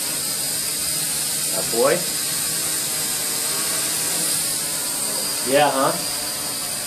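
An Ares Ethos QX130 quadcopter drone's motors hold a steady, high, thin whine as it takes off outdoors, continuous and fairly close, while people chat briefly over it.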